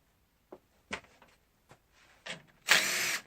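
A power tool gun with a 10 mm socket removes a small bolt while an oil pressure sensor is changed on a 2001 Subaru Forester: a few light clicks and knocks, then a loud, steady whir of the gun running near for about half a second.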